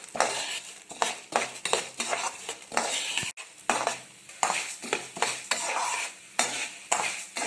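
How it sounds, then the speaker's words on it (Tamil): Urad dal roasting in a little oil in a pan, a spatula scraping and clinking against the metal in steady repeated strokes, close and fairly loud over a soft sizzle, with no talk. "ஒரு பேனில் கொஞ்சமாக எண்ணெய் சேர்த்துக்கோங்க. உளுத்தம் பருப்பு சேர்த்துக்கலாம். நல்லா வறுத்துக்கோங்க"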